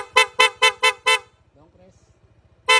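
Five quick, loud horn beeps in a rapid burst from a Honda ADV160 scooter, then a pause with a low idling hum and faint clicking before one more beep at the end.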